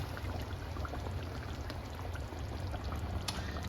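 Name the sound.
pouring half-thawed coconut milk into curry chicken pot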